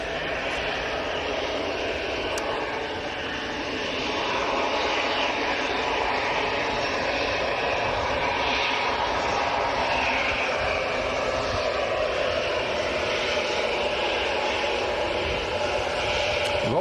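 An EasyJet airliner departing Manchester Airport for Verona makes a loud, sustained jet roar that dips briefly early on, then swells and holds steady to the end.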